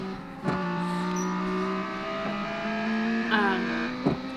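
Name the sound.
race car engine in a racing video game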